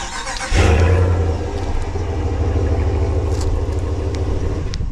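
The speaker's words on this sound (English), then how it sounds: "So if I go ahead and lock the truck, double tap it, that Hemi's gonna turn on." A 2023 RAM 1500 Laramie pickup's Hemi V8 engine is remote-started, cranking and firing up, then settling into a steady, deep idle rumble that carries on loud and close.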